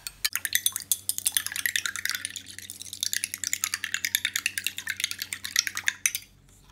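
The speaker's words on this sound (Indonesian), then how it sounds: "Ini saya kocok." Three large eggs being whisked into flour for sosis solo batter in a bowl: a fast, steady clinking and tapping rhythm runs for several seconds before stopping abruptly, close and moderately loud.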